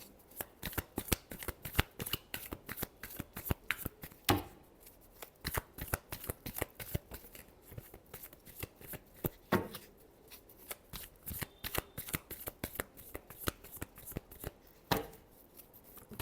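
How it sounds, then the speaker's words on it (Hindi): Tarot cards are shuffled in quick, sharp riffling bursts, crisp and close, repeating steadily throughout with brief pauses between passes and no talking. "last shuffle"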